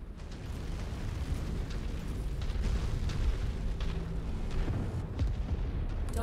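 A sustained, rumbling explosion as a destroyed target blows apart in the MechWarrior 5 battle game, loud and dense with low booming that rolls on for several seconds without letup.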